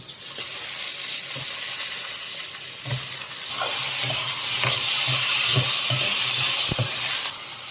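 Tubers tossed into hot oil with green chillies and curry leaves sizzle and hiss steadily in a pan, with soft clinks of stirring throughout and no talk.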